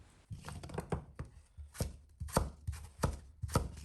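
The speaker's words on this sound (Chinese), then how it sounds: "切成1厘米厚的厚片，再切成1厘米宽的长条" A knife chops peeled taro on a cutting board into thick slices and strips, a close series of crisp, fairly regular thuds.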